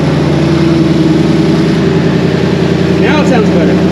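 A Ford S550 Mustang GT V8 with a power upgrade idles loud and steady close by, a deep continuous rumble with slight roughness, while a person talks over it near the end.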